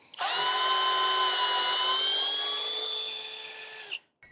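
A cordless multifunction screwdriver at maximum torque driving a screw whirs steadily at a high pitch for about four seconds, close and loud, then cuts off abruptly.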